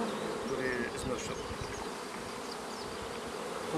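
A steady swarm of honey bees hums and buzzes close by at an apiary hive, a dense continuous drone with individual insects zipping past.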